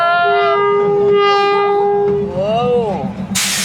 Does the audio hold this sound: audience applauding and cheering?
no